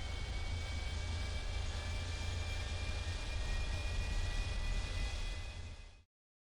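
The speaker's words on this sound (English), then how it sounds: "The on position provides for engine cranking and ignition operation." The turboprop engine of a Carenado King Air B200 runs in the X-Plane 11 flight simulator as a steady, full whine and rumble. It holds even for about six seconds, then cuts off abruptly.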